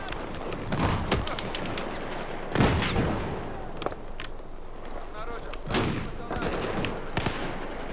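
Battlefield 4 gunfire from a weapon with heavy recoil: loud, widely spaced single shots and short bursts cracking over a dense game soundscape, with someone talking between them.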